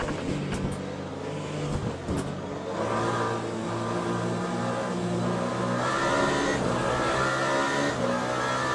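Hypercar engines in the Le Mans Ultimate racing game roar steadily at high revs, a loud continuous drone with shifting pitch as the cars race.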